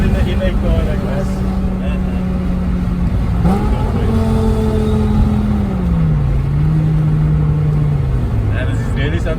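An engine drones with a steady, gliding pitch that rises and falls as the car shifts and accelerates, heard from inside a BMW E60 M5 with its V10 engine, with a low rumble underneath.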